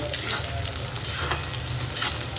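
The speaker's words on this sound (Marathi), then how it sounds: "वाटाणा तेलात लगेच फ्राय होतो" Peas sizzling and frying in hot oil for a spiced chapati chivda, a steady close crackle with stirring scrapes at intervals.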